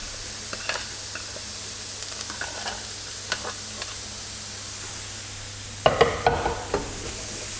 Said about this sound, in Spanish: ahora sí que me van a dejar unos minutos para que yo sofría bien toda esta verdura